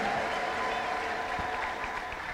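A church congregation applauding for the Lord, a steady wash of clapping from many hands with a sustained high ululation running through it, held at an even level.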